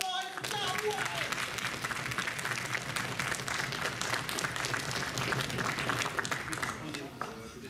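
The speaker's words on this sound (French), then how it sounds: "On peut l'applaudir là" Applause from a convention crowd for a cosplayer on stage, a sustained, fairly distant clatter of many hands with some crowd murmur and cheering mixed in, tapering slightly at the end.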